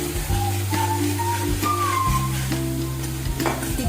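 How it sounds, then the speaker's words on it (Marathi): Sabudana khichdi sautéing in a pan for an Ekadashi fast meal, a steady close sizzle with soft stirring scrapes running throughout, plus a faint thin whistle-like tone drifting over the frying. "परतून घ्या छान"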